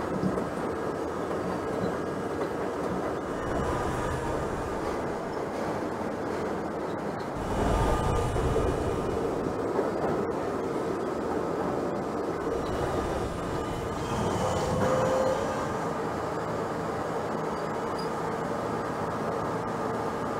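A New York City subway J train on the elevated Myrtle viaduct in Trainz Simulator 2012 rumbles steadily along, with rolling wheel noise and louder surges around the middle and near the end.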